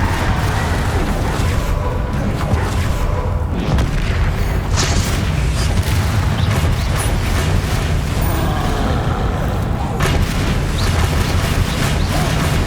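Rumbling fire-spell blasts burst repeatedly in a Hogwarts Legacy battle, loud booms layered over dense, continuous game clamor with no voices.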